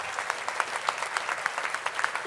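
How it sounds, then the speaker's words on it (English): An audience at the opening ceremony of San Francisco's Pier 27 cruise terminal claps steadily in a moderately distant, even patter, with individual sharp claps standing out. "You're clapping for yourself."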